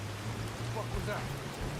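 Steady rain falls in the video game Fallout 4, a constant soft hiss with a low hum beneath it, lasting throughout at moderate level.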